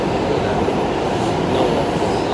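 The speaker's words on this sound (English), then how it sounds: "I'm on the train by myself" Steady, loud rumble of a subway train riding underground, a dense low roar with rattling wagon noise running continuously without a break.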